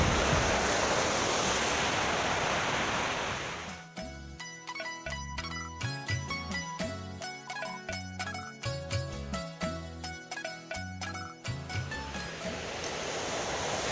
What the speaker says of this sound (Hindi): नेचुरल वाटर है ऊपर से।